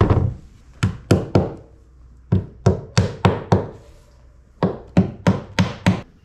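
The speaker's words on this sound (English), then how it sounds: "I sort of batch hammering them home so I don't have to do it at each one." Hammer blows drive fasteners into a wooden bulkhead aboard a wooden boat: sharp, close, resonant knocks come in three quick bursts of about five to six strikes each, with short pauses between the groups and no talking.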